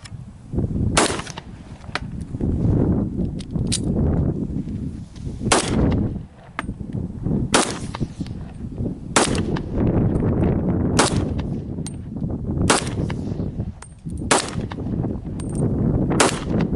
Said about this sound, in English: We're going to do a little bit of shooting with each one of these